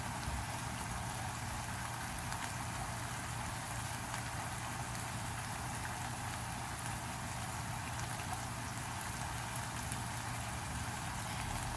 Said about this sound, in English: I'm going to keep it quiet so you guys can hear the sizzling.